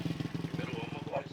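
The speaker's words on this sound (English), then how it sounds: "motorcycles humming down dusty paths." A motorcycle hums along a dusty path in Carballo, Dominican Republic, a steady pulsing low engine putter, moderately close, with a narrator's voice over it.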